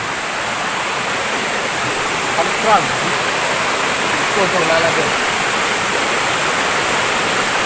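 The Kali Kranji river flows past in a steady, loud broadband rush of water, constant throughout, with voices talking faintly beneath it.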